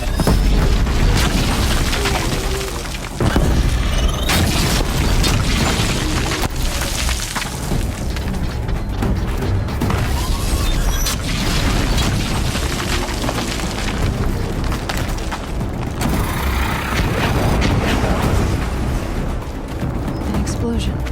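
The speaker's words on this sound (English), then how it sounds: "An explosion." Booming explosions go off in Horizon Zero Dawn, several heavy blasts and crashes sitting amid loud, dense game sound. A sharp break comes near the start, and the rumble continues throughout.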